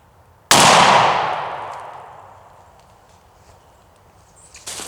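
A single loud shotgun blast from a 3-inch Remington duplex 4x6 turkey load, fired outdoors while patterning for turkey season, with a sharp crack and a long decaying boom, followed by quiet and a faint knock near the end.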